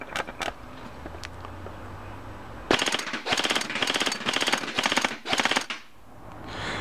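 Bursts of automatic fire from a Blazing Hog Combat Zone Enforcer gun, about five rapid rattling volleys close by after a quieter stretch, with no talk over them.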